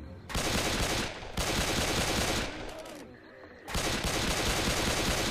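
Automatic gunfire in the Left 4 Dead 2 zombie shooter: sustained bursts of rapid close shots in three long volleys, with brief gaps between them and no talk over the firing.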